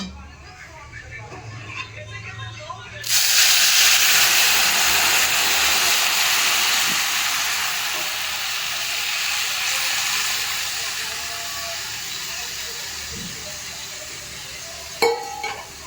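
Milk poured into a pan of vermicelli frying until reddish-brown, bursting into a loud, steady steaming sizzle that holds for about twelve seconds before easing slightly, with a brief clatter near the end.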